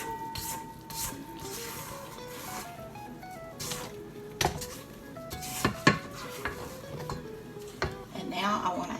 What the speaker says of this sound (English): Give the bowl a good scrape down.